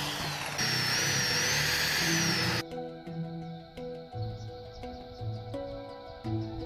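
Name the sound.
drilling holes with spade bit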